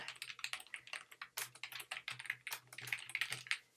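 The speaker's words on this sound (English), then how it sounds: "Okay, type in Missouri." Quick, irregular keystrokes clatter on a computer keyboard, close and fairly quiet, in a steady burst with no talking.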